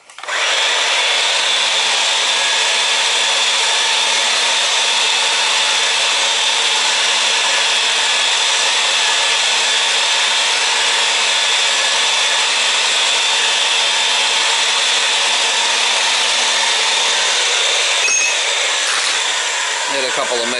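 A machine cuts pipe for a natural gas grill installation with one continuous, loud, steady grinding whir close by. It runs unbroken for about seventeen seconds, then winds down.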